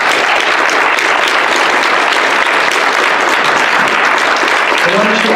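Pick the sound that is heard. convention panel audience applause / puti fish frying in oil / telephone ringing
convention panel audience applause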